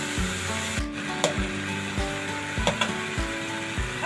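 Carrots fry in a pan for macaroni with red chilli sauce. A steady loud sizzle runs throughout, broken by repeated knocks and scrapes of a stirring spoon roughly every half second, close and with no talk.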